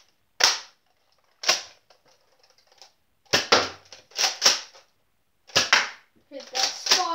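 Nerf blaster firing foam darts at a target, heard as sharp, clacking shots spaced about a second apart, some in quick pairs, close and fairly loud with brief rattles between them and no talk.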